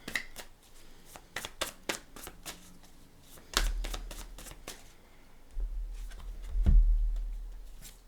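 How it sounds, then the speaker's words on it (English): Tarot cards dealt onto a table during a reading, a run of crisp close slaps and shuffling flicks followed by softer thumps and handling noise, with no talking. "I'm going to put a couple cards right on it."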